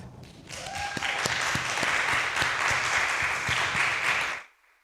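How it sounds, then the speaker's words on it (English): An audience at a poetry and spoken word event in an arts center breaks into applause, a dense, loud burst of clapping that holds steady for about four seconds before cutting off. "Let's give the Gateway Arts Center a round of applause."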